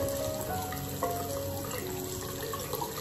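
Steady running water from a tap keeps flowing while a face mask is rinsed off, a continuous close splashing wash with small shifting trickles and no speech.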